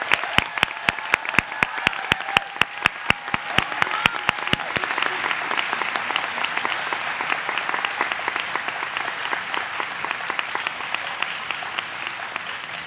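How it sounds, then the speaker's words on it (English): A ceremony audience at the 2018 TCNJ English commencement applauds the graduating Sigma Tau Delta members, starting with a few sharp, distinct claps that blend into a sustained, even round of applause. "Can we have one more round of applause for all of our Sigma Tau Delphins?"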